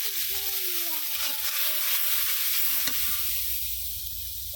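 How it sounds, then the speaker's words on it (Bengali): Turmeric, chili and coriander spices sautéing in a pan for a cauliflower and rohu fish curry, giving a steady close sizzle with a few stirring scrapes and tonal squeaks, no talk. "এখন মশলাটা আমি কষাই নিব বন্ধুরা"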